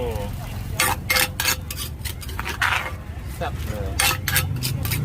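A pestle pounds a spicy seafood salad in a mortar, giving repeated irregular thuds and clacks mixed with wet stirring noises, close and fairly loud, while a person speaks briefly.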